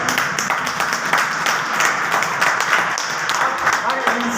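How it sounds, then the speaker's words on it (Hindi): Steady applause fills a business training meeting, many hands clapping together in a dense, continuous patter that holds at an even level from start to finish. "ताली होती है"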